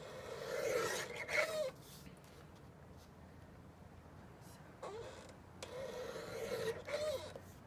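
A paper trimmer slides and rasps through off-white cardstock for a wedding invitation response card, with two bursts of scraping cutting strokes separated by a long quiet pause.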